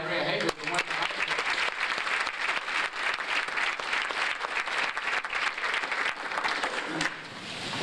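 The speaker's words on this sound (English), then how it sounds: "How about a nice round of applause for Andrea Hagley from Windsor High School?" Banquet crowd at a 1997 sports awards dinner applauds for a high school athlete, continuous dense clapping for several seconds, easing slightly near the end.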